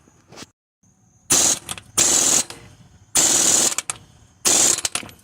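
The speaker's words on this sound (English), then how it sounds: "impact gun." Impact gun tightening a bolt on a 2014 Chevy Equinox during timing chain cover work: four loud, sharp rattling bursts of hammering, each about half a second to a second long, separated by short quiet gaps, close up.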